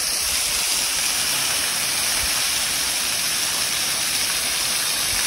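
Kargil waterfall in the mountains of Ladakh, a loud, constant roaring rush of falling water close by with no pauses.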